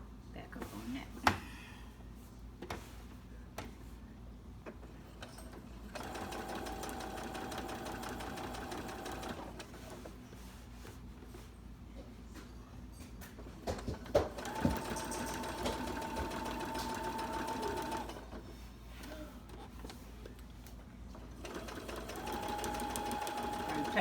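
A sewing machine quilting a vintage Parasol Ladies quilt runs in several steady bursts of fast, even stitching, stopping and starting, with people talking quietly between and over the runs.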